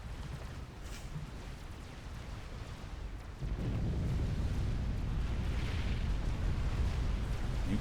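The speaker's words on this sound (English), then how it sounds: "Nuclear explosion in the west." A nuclear explosion in the Supreme Commander strategy game swells into a deep, sustained rumbling roar that grows louder midway and holds steady without talk.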